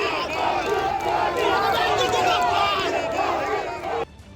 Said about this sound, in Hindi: फिर क्या था, दोनों दलों के समर्थकों ने वहां जमकर नारेबाजी शुरू कर दी।